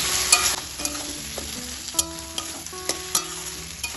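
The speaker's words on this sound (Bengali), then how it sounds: "কচুটা এবার টমেটোর সাথে ভালোভাবে মিশিয়ে নেব।" Grated taro being stirred into tomatoes frying in oil, with a soft sizzle under repeated sharp scrapes and taps of a spoon against the pan, close and fairly quiet.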